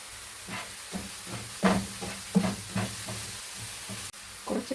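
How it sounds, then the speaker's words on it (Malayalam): Chopped onions sauté in a pan for a boneless chicken curry, giving a soft, steady sizzle broken by a series of spatula stirs and scrapes. "ചോപ്പ് ചെയ്ത ഉള്ളിയാണ്. പിന്നെ നന്നായിട്ടൊന്ന് വഴറ്റിയെടുക്കാം."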